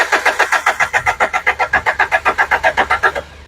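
A car engine cranks with a fast, even chugging of the starter, about twenty loud close pulses in a row that fade out at the end without the engine catching.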